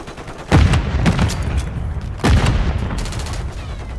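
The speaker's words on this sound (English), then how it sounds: "Grenade out!" A grenade goes off and gunfire rings out in Call of Duty MW3 multiplayer on the Rust map, with two heavy booms followed by rattling shots and echoes, loud and close.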